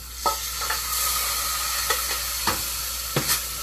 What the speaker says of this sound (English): we're going to take the potatoes we just did, and we're going to dump them back in the pan